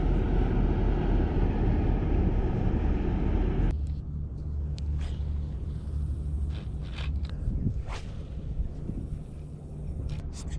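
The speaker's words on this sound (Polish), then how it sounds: "Wszystkie barki już zaczynają odpływać. Ruszają w drogę." A departing barge's engine gives a deep, steady rumble with low droning hum at a harbour in the Netherlands, loud and continuous, dropping slightly after a few seconds, with faint knocks and clatter over it.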